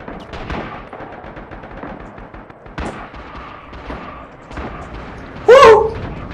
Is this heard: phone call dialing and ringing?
no